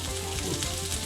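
Lamb cutlets fry in a very hot pan with a little olive oil, giving a steady close hiss and crackle of sizzling fat with no break and no talking.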